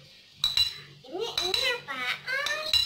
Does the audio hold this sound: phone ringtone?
no